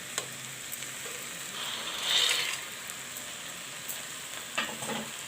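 Fried soyabean chunks go into a sizzling curry of chana dal and potato in a pan, giving a constant close hiss that swells briefly, with soft stirring scrapes and light clicks.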